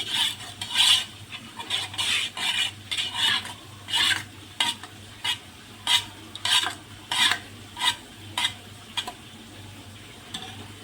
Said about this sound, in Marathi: ग्रीन चिल्ली सॉस दोन चमचे विनेगर दोन चमचे त्याला चांगलं असं मिक्स करून घ्यायचं